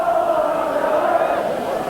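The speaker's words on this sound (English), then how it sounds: "The crowd starting to even sing." Crowd at a rugby league match at Thrum Hall between Halifax and Australia, a steady sustained roar of many voices with a faint sung tone, loud and continuous throughout.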